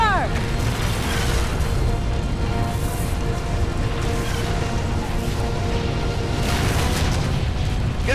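LRM missiles pound a hangar in Mechwarrior 4: Vengeance, making a dense, loud, continuous barrage of rumbling blasts and crashes, with voices faintly mixed beneath.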